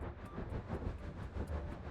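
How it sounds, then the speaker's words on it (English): A train rolls past with a steady, rumbling roar and a faint rhythmic clatter that carries on throughout, with no voices over it. "train. 기차,"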